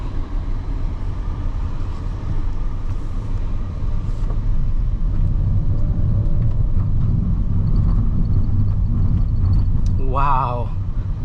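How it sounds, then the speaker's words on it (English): Inside a 2023 Nissan Kicks VL e-POWER while it accelerates, a steady low road and drivetrain rumble fills the cabin, with a brief voice near the end. "Wow, that instant torque right there. This feels like a proper electric vehicle."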